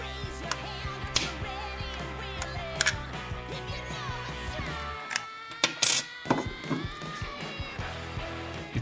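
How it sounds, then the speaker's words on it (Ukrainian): Small plastic clicks and scraping as a Lincoln car key fob case is pried, then a sharper snap as it pops open, close up with no voices. "чули воно відщолкнулось і відкриваємо повністю ключ"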